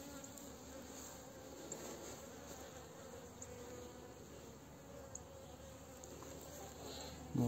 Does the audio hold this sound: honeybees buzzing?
yes